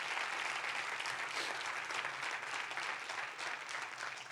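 Sustained congregation applause at a Spanish-language church service, a dense, steady wash of clapping that holds at an even level throughout, with no clear talk over it.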